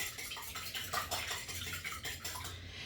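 A whisk stirs a quarter cup of almond milk in a bowl with quick, rhythmic clinks and swishes, close up and fairly quiet, and no voices.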